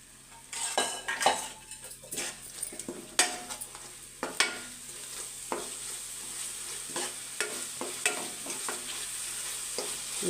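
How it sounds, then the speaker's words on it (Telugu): Leftover fish-frying oil poured into a hot curry pan, a sizzle with a run of sharp metal clinks and stirring scrapes from a spoon on the pan, close and alone, no talk. "ఆయిల్ అయితే మనం ఇందులో పోసేసుకుందాం"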